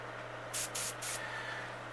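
An airbrush loaded with paint fires three short test bursts of spray onto the wall of a paint booth, each a brief hiss over a constant low hum from the booth.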